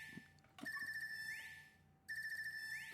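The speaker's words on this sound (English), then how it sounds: "Oh, it's ringing." A phone rings in the video game Trails of Cold Steel III, a synthetic electronic ringtone heard in two loud repeated bursts with a pause between them, and no talk over it.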